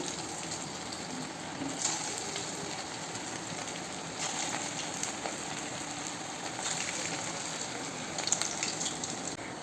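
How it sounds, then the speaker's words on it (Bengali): Bombay duck (loitta fish) pakoras fry in hot oil in a wok, a dense, continuous sizzle and crackle with a few louder pops, close up and with no talking. "কড়াইতে আমি তেলটা ভালো করে গরম করে নিয়ে বড়াটা ছেড়ে দিলাম"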